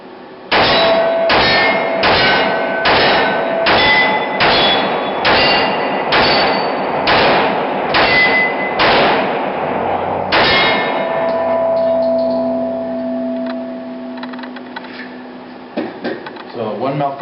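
A Glock 41 .45 ACP pistol fires Tula ammunition in a rapid string of about eleven loud, close shots at an even pace, each with a sharp metallic ring, followed by a fading tail and some handling noise.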